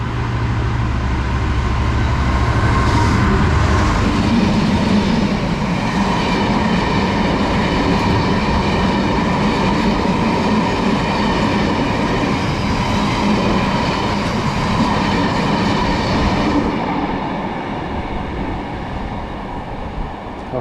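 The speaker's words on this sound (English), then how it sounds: "passing through now, we've got a Freightliner 66 heading from Acton TC" A Class 66 Freightliner freight train runs through a station, a loud, sustained rumble and rolling clatter of wagons that holds for about twenty seconds before easing slightly at the end.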